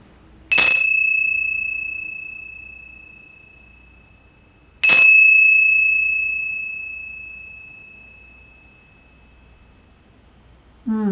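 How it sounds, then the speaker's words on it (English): A small handbell struck twice for a space-cleansing ritual, each bright ring near and loud, slowly fading over about four seconds in a quiet room. "So we're going to kick it off with our bell to cleanse my space and to cleanse your space."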